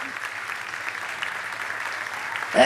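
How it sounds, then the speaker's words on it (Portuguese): Congregation applauding during a Portuguese-language celebration church service, a steady wash of clapping that holds evenly throughout and swells briefly at the very end. "Você pode aplaudir ao Senhor?"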